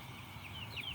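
Soft clucking and chirping from young broiler chickens in a closed-house farm, low and continuous through a short moment, fairly faint with a few brighter peeping calls.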